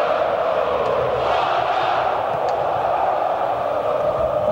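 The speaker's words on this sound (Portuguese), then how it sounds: "Barulho ensurdecedor da torcida do Botafogo, tentando levar o time à frente para mais gols" Botafogo supporters at the Maracanã stadium during the 2006 Campeonato Carioca final, a loud continuous roar of crowd noise with massed chanting and shouting sustained evenly throughout.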